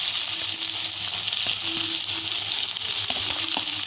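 Chopped onions sizzle in hot oil already seasoned with bay leaf, cardamom, clove and cinnamon, a loud continuous frying hiss with a few soft clinks and stirring taps close by.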